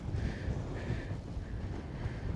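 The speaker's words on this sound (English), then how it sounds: "it is windy" Steady wind rushing through open Alaska wilderness, a continuous low buffeting roar with gusty swells, fairly close and moderately loud, no voices present.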